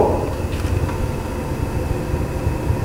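A Vevor mini furnace burner gives off a steady, dense, low rumble with a broad roar. It holds at an even level throughout, with no voices.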